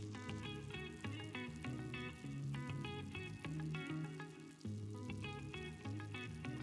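Gnocchi fry in a pan with a soft sizzle beneath brighter clinks and tonal kitchen sounds, fairly quiet and steady throughout.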